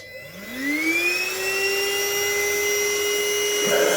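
A Balzano cordless vacuum cleaner spins up in standard mode, a whining motor tone that rises in pitch and then settles into a steady, loud, close hum.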